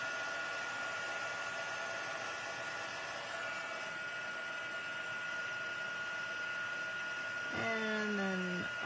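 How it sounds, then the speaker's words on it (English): A handheld embossing heat tool blows hot air in a constant loud whooshing hum, with a brief rising whine near the end. "We'll take out our heat tool. Just let it heat up a wee bit."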